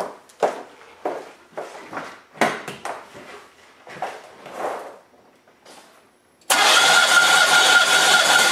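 Engine cranking over for a cylinder compression test, heard as a series of rhythmic bursts, each rotation a separate chug, then a sudden loud, steady roar as the engine fires and runs at the end.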